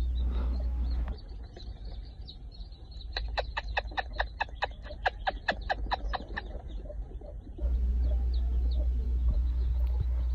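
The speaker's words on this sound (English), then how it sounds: "We do have more chicks in here because others were hatching later than others." Newly hatched chicks in an incubator give a rapid run of repeated high cheeps, fairly close, between stretches of steady machine hum.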